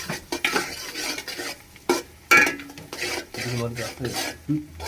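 Duck khichuri cooking in mustard oil in a pot at a picnic, with close scraping stirs and clattering metal utensil knocks over a soft sizzle, a few brief sharp clinks standing out.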